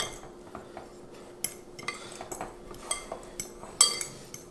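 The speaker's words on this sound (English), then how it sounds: "I need something just to mix these all up" A utensil clinks and scrapes against a bowl while baking ingredients for keto birthday cake cookies are mixed, a loose series of light taps and rattles, close but quiet, with no voices.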